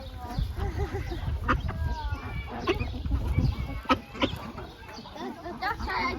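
Ducks at a birds of prey centre, with repeated nasal quacks and clucking calls close by in short irregular bursts, mixed with rustling and voices talking.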